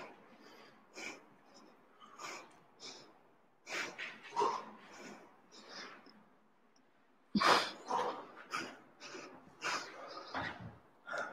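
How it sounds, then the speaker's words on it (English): Someone catches their breath after a kettlebell and bodyweight strength workout, giving repeated heavy exhales and sharp nasal breaths in an uneven rhythm, close to the microphone, with a louder thump partway through. "Breathing. Catching your breath."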